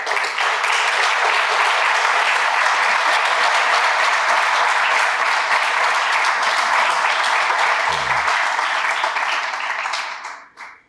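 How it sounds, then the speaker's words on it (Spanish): Hospital workers applaud themselves in a long, dense, steady burst of clapping filling the room, holding loud and even for about ten seconds before fading out at the end. "Yo creo que ustedes mismos merecen su propio aplauso."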